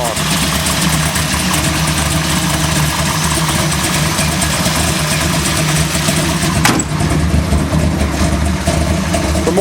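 A 1970 Chevy Chevelle Malibu pro-street car with a large carbureted big-block engine, no supercharger or nitrous, idles loud and close with a steady deep rumble throughout.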